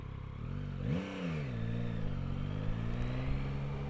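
A 2025 Yamaha Tracer 9 GT motorcycle pulls away, its engine note rising in pitch as it revs up from a steady idle-like drone, then settling into a sustained, even hum close by.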